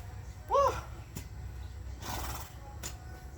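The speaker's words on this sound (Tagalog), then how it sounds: "May kabayo." A horse neighs once, a short whinny rising out of an outdoor field setting in the Philippines, moderately close and loud against a low rumbling background, followed by scattered knocks and rustling.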